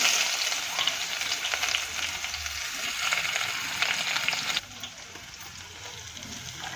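Chopped onion goes into hot oil in a pan for a Gujarati potato, capsicum and soybean curry. A loud, steady, close sizzle fills the clip and drops noticeably softer near the end.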